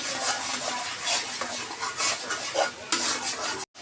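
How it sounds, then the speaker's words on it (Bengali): Spices being sautéed in oil in a pan while stirred for several minutes, heard as a steady close scraping and clinking of a utensil with a faint sizzle throughout, with no talking. "এই যে আমি কয়েক মিনিট ধরে কষিয়ে নিচ্ছি"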